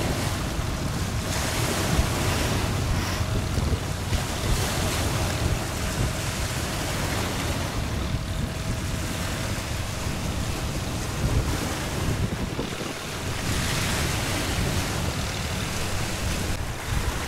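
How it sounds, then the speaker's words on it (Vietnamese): Sea waves and wind near a dike, with continuous roaring surf and gusting wind buffeting the microphone, loud and close throughout with no voices. "Thì sóng nó nhỏ nhưng mà nhìn vẫn thấy ớn nha"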